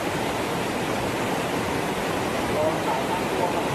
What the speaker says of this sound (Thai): นี่น้ำตกเปโตะนะครับ